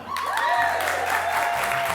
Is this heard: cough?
no